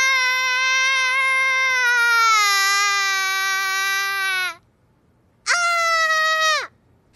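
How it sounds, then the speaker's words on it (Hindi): A girl screams and cries loudly in a long wailing stretch, breaks off briefly, then lets out a second shorter cry, close and alone with no talk over it. "तुम चिल्ला क्यों रही हो?"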